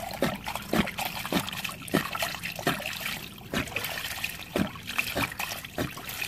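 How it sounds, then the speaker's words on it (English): Water drains and trickles out of a pool cartridge filter housing once the pressure is released, a close, irregular dribbling with splashy pulses that continue steadily. "the water just gonna drain out like this"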